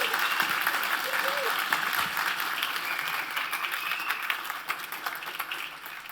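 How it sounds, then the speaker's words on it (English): Sustained applause from a conference audience welcoming the closing keynote speaker, a dense, steady wash of many hands clapping that carries at an even level throughout, with some voices mixed in. "Give him a big round of applause for the closing keynote of this very conference."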